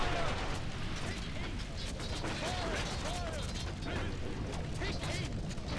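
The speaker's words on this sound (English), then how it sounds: "now we have javelins firing at them as well" Battle sounds from a Lord of the Rings strategy video game as javelins and archers fire, a dense steady clatter of mechanical clicks and impacts under a brief spoken voice.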